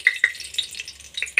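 Whole spices crackling in hot oil and ghee, a few sharp pops and light sizzle over a faint low hum, close and brief with no talking.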